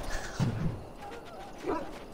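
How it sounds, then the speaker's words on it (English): A dog in the fantasy video game Dragon Age: Origins gives a couple of short, loud barks with a whimpering yip, the first near the start and another about a second later. "And your dog is very loud."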